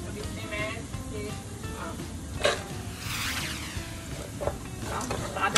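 Cashews hit a pan of frying potatoes, sizzling under the scrape of a spoon stirring and a few sharp clinks and rattles of the nuts as they land, with a hiss rising midway.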